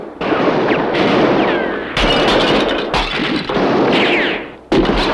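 Cartoon gunshots ring out in a Lucky Luke animated episode from 1984 as a baby shoots up a hotel tea room, with sharp loud blasts at irregular intervals over a busy, noisy soundtrack.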